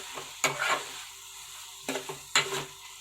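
A spoon stirs bitter gourd tamarind curry as it cooks down in a pan, giving a few soft scraping strokes over a quiet background sizzle.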